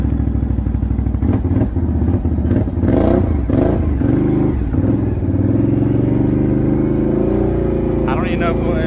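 A loud 2021 Can-Am Outlander 650 ATV engine with an aftermarket SPI exhaust idles with a rough, throaty note, revving in bursts before settling into a steady rumble, with a voice underneath.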